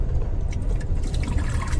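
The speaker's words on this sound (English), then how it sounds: "So there are drain holes in the back here, and the water will drain out of them" Water drains steadily from a fold-up sink in an Amtrak train roomette, a close, continuous rushing trickle that runs without pause.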